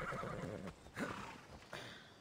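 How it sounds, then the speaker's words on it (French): A horse in the video game Assassin's Creed Odyssey whinnies loudly on being called, giving a shrill, quavering neigh followed by a snort and a second burst, with hoof sounds faintly underneath. "Donc, on va appeler notre ami de cheval."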